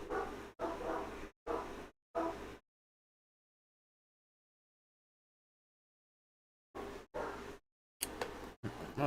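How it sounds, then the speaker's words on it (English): Dogs barking indoors in a home: several loud, close barks in a quick run, a long silence, then another burst of barks and yips. "My dogs are going crazy."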